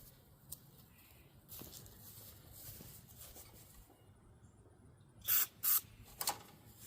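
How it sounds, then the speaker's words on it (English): Carb cleaner sprayed onto a Kohler K321 engine on an old John Deere 314 garden tractor, a few short hissing bursts near the end after quiet handling sounds. "carb cleaner it is"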